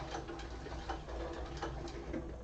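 A sewing machine stitching through thick sections of a Pawling handbag, a rapid continuous mechanical whirr with regular needle pulses, close and steady throughout.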